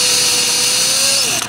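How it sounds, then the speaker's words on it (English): A drill bit turns against a steel Welch plug on a motorcycle carburetor, a loud, close, continuous whirring hum with a steady pitch that slows and dips near the end. "as soon as the drill bit pops through, it'll actually catch the Welch plug and break it free anyway"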